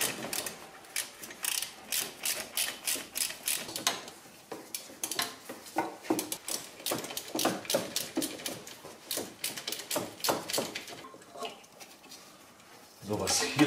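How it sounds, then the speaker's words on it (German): Screws being undone by hand from a part on a VW TDI diesel engine, giving a run of quick metallic clicks and ratcheting ticks close by, steady for most of the stretch, with someone talking over it. "Hier sind dann nur noch drei Schrauben. Die holen wir mal gerade raus."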